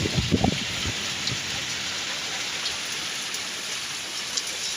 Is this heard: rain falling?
yes